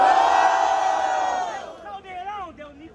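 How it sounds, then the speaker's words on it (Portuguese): Crowd cheering and shouting at a student rap battle semifinal, a loud dense roar of voices that fades after about a second and a half into scattered whoops and calls. "barulhos pra quem gostou das rimas de Nicolas"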